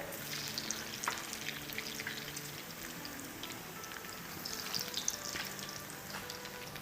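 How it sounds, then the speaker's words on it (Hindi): Bottle gourd koftas fry in hot oil with a steady, soft sizzle and crackle that stays even throughout and is heard alone. "इन्हें हम फ्राई करेंगे अराउंड 3-4 मिनट।"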